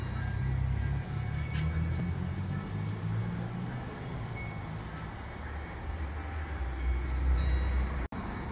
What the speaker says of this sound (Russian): а мы уезжаем на поезде